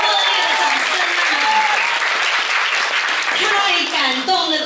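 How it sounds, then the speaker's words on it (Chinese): Warm applause from a large audience at a lavish corporate gathering, with department heads seated on the judging panel; dense, sustained clapping, loud and close, with a voice speaking over it. "给他们一个热烈的掌声啊"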